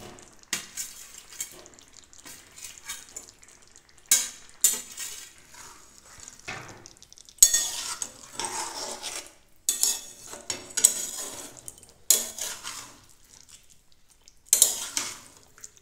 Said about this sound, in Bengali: এতে এবার আমি ভেজে রাখা পনিরগুলো দিয়ে দেব।